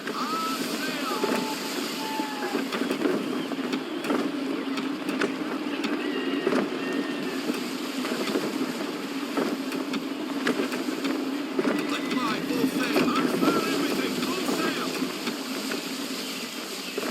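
Sailing ship cruising through water in Assassin's Creed III, with steady wash of waves and wind around the hull, continuous and fairly loud, with game voices talking over it.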